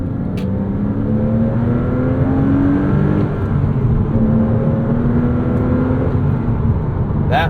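A 2006 Porsche Cayman S engine pulls steadily on a twisty road, its revs climbing and settling in a continuous, fairly loud drone heard from inside the car, with no voices.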